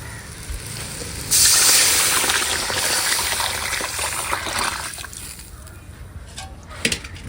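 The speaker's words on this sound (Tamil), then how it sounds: "மசாலா நல்லா வதங்கிச்சு இதில் புளி தண்ணி ஊற்றிக்கலாம்" Tamarind water pours with a sudden loud hiss into a pan of frying masala, settling into a steady sizzling bubble that gradually quiets.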